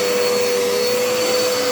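Dirt Devil Endura Reach vacuum cleaner running steadily, a loud constant motor whine with a strong steady tone and broad airflow hiss, no talk.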